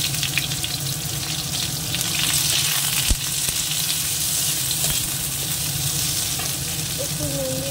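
Two onions frying in a pan with chopped chilli, a steady dense sizzle close by and loud throughout, with faint scraping and a brief knock partway through.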